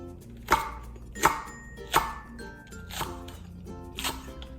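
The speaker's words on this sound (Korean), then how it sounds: "풋고추도 어슷 썰어주세요." A kitchen knife slicing green chili peppers diagonally on a cutting board, five crisp close chops at a steady pace that grow softer toward the end, without speech.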